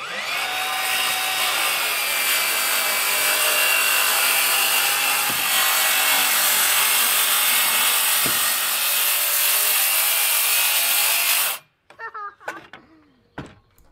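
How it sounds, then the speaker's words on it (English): A power saw cuts and trims a composite deck board, a loud, steady whining buzz held for about eleven seconds before stopping abruptly, followed by a few scraping and knocking handling sounds. "Our last board did need a little bit of trimming"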